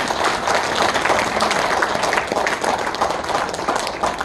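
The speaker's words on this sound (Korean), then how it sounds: "우리 윤만명 선생님의 건강을 위해서 다시 한번 큰 박수 부탁드리겠습니다" A founding ceremony audience in a National Assembly meeting room claps in a dense, steady round of applause, fairly loud and sustained throughout.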